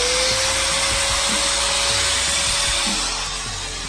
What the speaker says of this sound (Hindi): पैक करने के बाद हम ऑन करके देखते हैं कि हमारा ग्राइंडर कैसे वर्क करता है